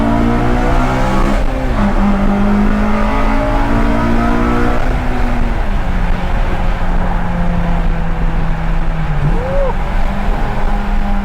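Modified 2011 Honda CR-Z revving loudly up close, its exhaust note rising and falling in steady harmonic sweeps with a sharp blip near the end, with brief voices underneath.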